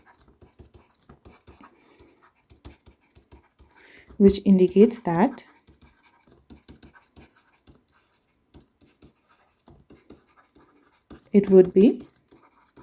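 Writing out an A Level accounting answer: a steady run of small dry scratches and taps, close and fairly quiet, continuing through most of the stretch, with a voice briefly speaking over it twice.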